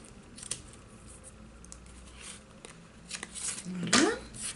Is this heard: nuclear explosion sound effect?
no